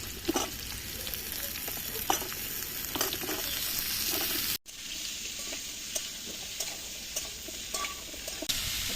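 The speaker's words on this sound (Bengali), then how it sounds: "আলু আর ডাটাটা ভাজা ভাজা হয়ে গেছে" Potatoes and white vegetable stalks fry in a pan with a steady, soft sizzle, while a utensil scrapes and taps as they are stirred, broken by a brief cut midway.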